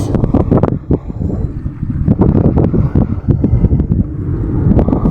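A boat engine on a newly built mounting chugs loudly and continuously during a sea trial, mixed with rough wind buffeting the microphone and water noise.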